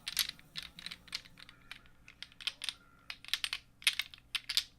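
A fidget toy clicks and clacks in quick irregular bursts of sharp, close taps, with short pauses between clusters and no talking.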